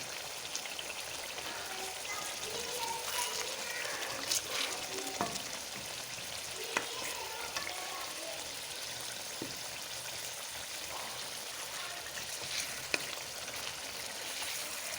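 Fish pieces in a yogurt-based masala sizzle and fry steadily in a pan, a continuous close crackle with occasional stirring scrapes and no talking.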